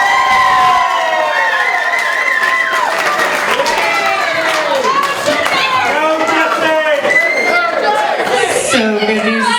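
Wedding guests cheer and clap for the maid of honor at a reception, loud whoops and shouted voices riding over a steady wash of applause that stays strong throughout before dropping toward a single voice at the end.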